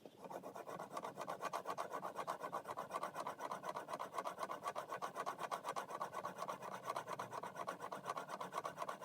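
A steel chisel is rubbed back and forth on a sharpening stone, giving a steady, even rasping with a quick stroke rhythm that repeats for the whole stretch, close and alone.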